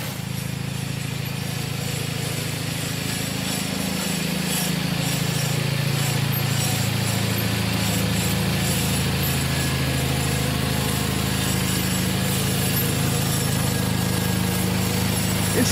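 A tractor engine runs steadily and loudly close by as the machine is moved around, a continuous droning rumble with a low tone that shifts slightly in pitch throughout, with no talking over it.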